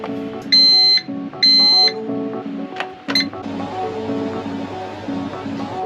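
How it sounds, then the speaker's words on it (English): An air fryer beeps as it is switched on to preheat in a caravan, giving two loud sustained tones followed by a quick burst of short beeps over a continuous low hum. "Now that we've got the air fryer on and preheating"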